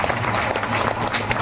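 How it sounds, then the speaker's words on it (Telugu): Crowd at a temple auction of the deity's silk garments and flower garlands breaks into steady, dense applause, close and loud, filling the whole moment without pause. "గట్టిగా చప్పట్లతో"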